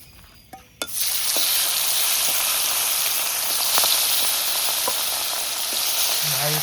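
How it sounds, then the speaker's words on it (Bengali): Fresh hilsa fish frying in oil on a village clay stove, a loud steady sizzle that bursts in after a couple of soft clicks and holds on, with occasional crackles and pops on top. "বাকি মাছগুলো ভেজে নিই।"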